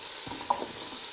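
Beef short ribs searing in a Ninja PossibleCooker Pro, a soft steady sizzle with a couple of faint pops and a small clink near the end.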